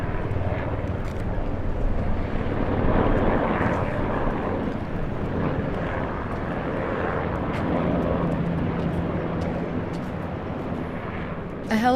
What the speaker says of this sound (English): A helicopter lands near the showroom in Centro da Barra